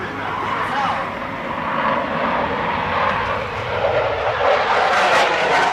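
A Lockheed Martin F-16 fighter jet flying during an air show display, its engine roar loud, broad and sustained throughout with a steady rumble, while a voice speaks over it.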